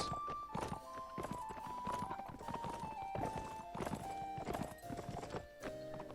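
Horse hooves clip-clop at a steady walking rhythm as the horse is ridden in a game, moderately close, with a faint sustained tone running underneath the footfalls.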